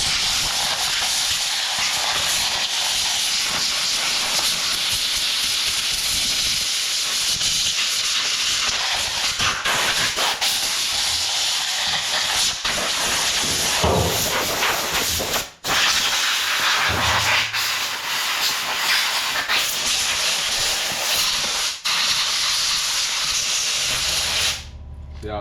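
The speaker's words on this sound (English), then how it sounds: "if you're blowing it out with air" Compressed air blasts steadily through the oil holder passage of a chainsaw in a shop. The loud, continuous hiss runs almost unbroken, with a few short cutoffs where the nozzle stops.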